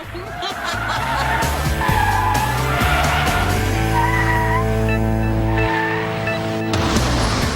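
A car's tires squeal loudly in a sustained skid during a driving test maneuver on a course with cones, with engine drone and sliding screech filling the scene.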